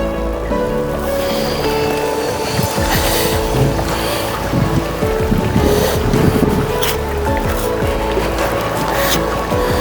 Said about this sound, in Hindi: यहाँ ये पानी यहाँ से निकल के ये बह रहा है यहाँ।